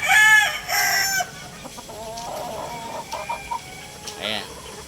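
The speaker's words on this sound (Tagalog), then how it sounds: "Mahusay itong manok na ito." A rooster crows loudly up close at the start, followed by softer intermittent clucks and short calls, with someone talking quietly underneath.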